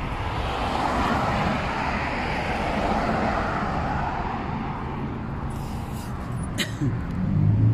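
Steady roadway traffic noise from cars passing on a nearby road, a continuous loud wash of engine and tire sound with a heavier vehicle swelling near the end.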